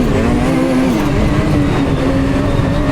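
Steady, loud engine drone from a snowmobile sled running close by, a sustained motor whine with a firm low rumble and no breaks for the whole stretch.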